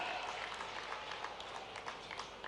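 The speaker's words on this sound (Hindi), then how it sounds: "जोरदार ताली बजाइए" Applause from a crowd at a political rally in Harda, Madhya Pradesh, a steady wash of clapping held at an even level throughout, with a faint voice mixed in.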